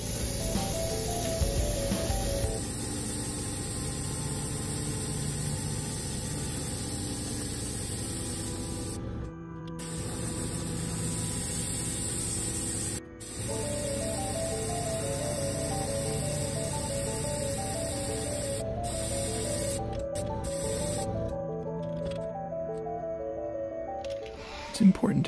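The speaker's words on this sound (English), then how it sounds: "It's time to spray on the top coat of Opaque Black." A steady airbrush hiss spraying opaque black paint onto a crankbait fishing lure runs nearly continuously, with a few short pauses between bursts of spraying, close to the microphone.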